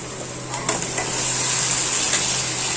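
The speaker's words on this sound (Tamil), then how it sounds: "இப்போ நம்ம தக்காளி போட்டுருவோம்" Tomatoes go into a pan of well-sautéed onions for a tomato kuzhambu, giving a steady close sizzle and frying hiss with a few stirring scrapes near the start.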